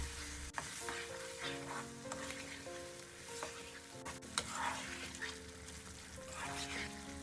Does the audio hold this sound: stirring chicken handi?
yes